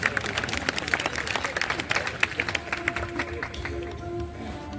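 Enthusiastic applause welcomes Ayas Mirzapuri, an environmentally aware guest, with crisp, scattered claps from a crowd that fade out midway while a faint steady tone lingers beneath.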